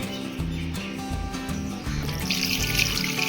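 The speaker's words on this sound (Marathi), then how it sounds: "आता हे आपण मटण चांगलं स्वच्छ 2-3 पाण्याने चांगलं स्वच्छ धुवून घेऊया" Raw mutton being washed with water in a vessel: splashing and trickling water with sloshing handling sounds, close and fairly loud, over a faint background of chirping.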